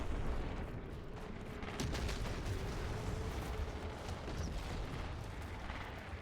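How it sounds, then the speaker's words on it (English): An explosion in the video game Outriders leaves a dense, sustained rumbling roar with a few sharper cracks breaking through, steady and fairly loud throughout without any voices. "I'm looking at the epicenter of the explosion."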